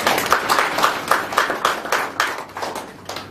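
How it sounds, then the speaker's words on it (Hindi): A meeting audience of men clapping for a guest speaker in Balotra, the claps sounding as a run of distinct, uneven bursts that swell and fade in waves, fairly close and loud, with no talk over them. "मैं एक बार ताली आपके लिए बजाना चाहूंगा।"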